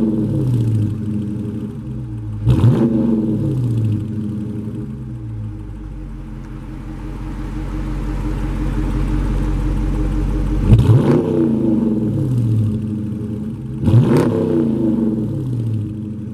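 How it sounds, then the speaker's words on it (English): A 2018-or-later Dodge Charger R/T with active exhaust, revved while parked: a deep idle burble broken by three sharp, loud rev blips, plus a longer swelling rumble in between, heard close with no talking. "so it sounds really good when you rev it."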